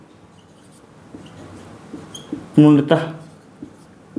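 A pen writes out a maths solution on paper in short, faint scratching strokes, heard under a man's Hindi speech that breaks in loudly partway through.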